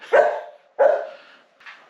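A dog barks close by, two full barks about half a second apart and then the start of a third, with nothing else heard.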